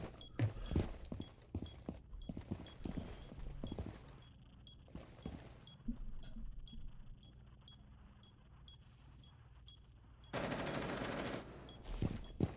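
Gunfire in the video game Rainbow Six Siege, several short sharp bursts of rapid shots spread across the stretch, one longer sustained burst near the end, with quieter footsteps and clatter between.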